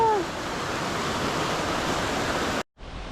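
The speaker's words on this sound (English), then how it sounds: "Looks like we're crossing another body of water, but it doesn't sound like it's gonna be as big." Flowing stream water on the Appalachian Trail, a steady broadband rush close by, continuous and fairly loud, cutting off abruptly near the end before resuming.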